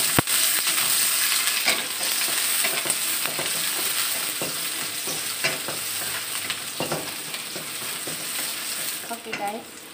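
Shallots and garlic sauté in hot oil with a loud, continuous frying sizzle, broken by frequent scraping stirs of a spatula against the pan and a few clacks near the end.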